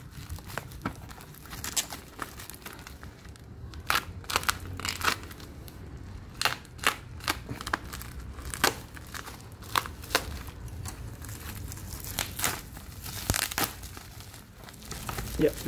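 Plastic packaging of a Tekiro PL-AW1700 automatic wire stripper crinkles and tears during unboxing, with irregular crisp rustles and crackles, close and moderately loud.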